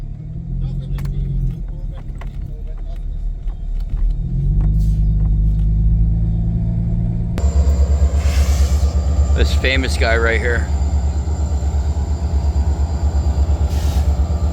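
A freight train pulled by three locomotives rumbles past nearby with heavy low engine drone and rolling noise that grows louder midway, while people talk over it.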